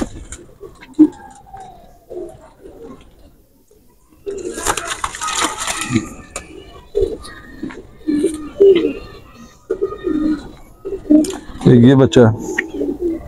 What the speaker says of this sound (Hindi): ये बुलेट टैडी बच्चे हैं सारी दोस्तों